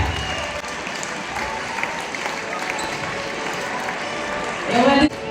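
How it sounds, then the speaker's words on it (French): Crowd applause for the winning team at a basketball all-star game, a steady broad wash of clapping throughout with a voice over it near the end. "Faut applaudir à l'équipe, la team Chetrus."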